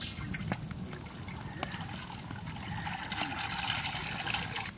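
Oil pours into a hot wok with a soft, trickling liquid sound, close and fairly quiet with faint background noise.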